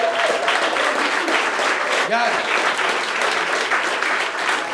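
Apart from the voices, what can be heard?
audience applauding the comedians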